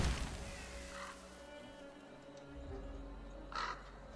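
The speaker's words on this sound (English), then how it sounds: "I love my crow." A crow in a video game caws twice, faint and spaced apart, over a quiet low hum and soft ambient background.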